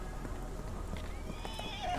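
A horse whinnies and its hooves clop against a steady low background hum in the video game Sherlock Holmes: The Awakened, the sound brief and fairly quiet.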